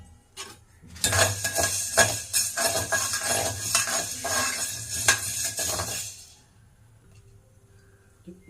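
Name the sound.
dry-roasting black pepper in a pan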